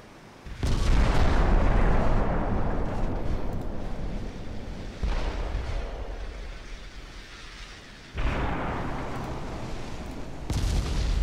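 Heavy naval guns fire HE shells in a dreadnought ship battle game, three big booming salvos, each hitting hard and then rolling off into a long rumbling decay with the sound of the sea underneath.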